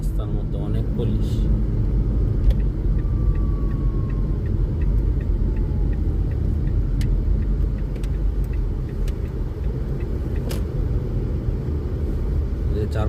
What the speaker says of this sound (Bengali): চার পাঁচটা গাড়ি, সবগুলো এটি পুলিশের গাড়ি।